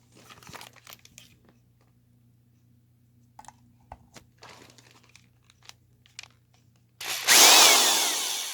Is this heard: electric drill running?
yes